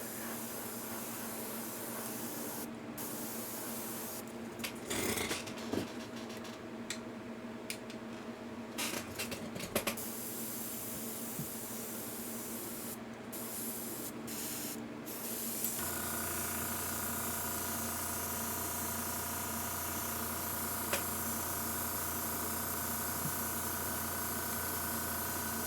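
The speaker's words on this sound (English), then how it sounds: "So you see the motion that I'm doing with the airbrush." Airbrush spraying skin-tone paint onto a Huntress figure, a steady close hiss with short interrupted bursts, continuous and unbroken after the midpoint with a low compressor hum beneath.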